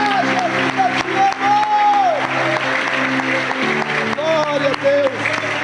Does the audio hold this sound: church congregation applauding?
yes